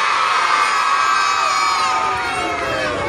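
A crowd of schoolchildren at a school district event shouts a loud, sustained collective cheer, many young voices overlapping and holding the call before it tapers slightly.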